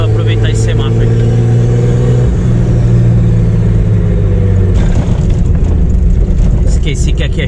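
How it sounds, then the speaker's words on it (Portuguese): A Chevrolet Opala with a turbocharged six-cylinder engine pulls away in city traffic, its engine droning loudly up close with rising tones and then a rougher, gravelly stretch, while someone talks over it. "E vamos agora curtir um pouquinho do rolê com o carro."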